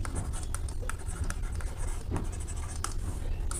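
Pen or marker scratches steadily while a math problem is written out, a close continuous scratching with small taps over a low room hum.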